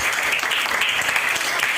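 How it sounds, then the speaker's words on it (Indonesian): A classroom full of students claps steadily together, dense and continuous applause with a few voices mixed in. "Tepuk tangan untuk kalian semuanya."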